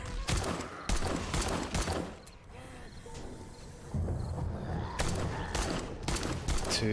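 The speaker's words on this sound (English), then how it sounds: "I didn't realise I could actually shoot like this with detaching third person." Gunfire in the video game 7 Days To Die, rapid bursts of repeated shots with short gaps between volleys, loud and close.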